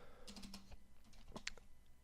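Quiet taps on a computer keyboard come in short irregular bursts of keystrokes, close and faint, with a few sharper clicks standing out near the end.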